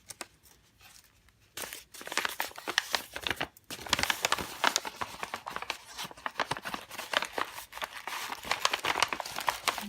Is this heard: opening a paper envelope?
yes